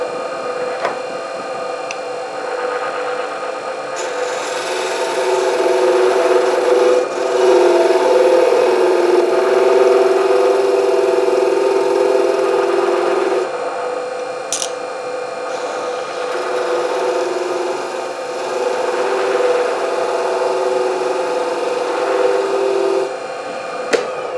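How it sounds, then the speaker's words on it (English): A pen blank spins fast on a wood lathe for a Christmas ornament as a thin parting tool cuts in, giving a loud steady whirring drone that swells and grinds during the cut, with no voices. "I'm going to take a real thin parting tool. I'm going to turn the speed up fairly fast here."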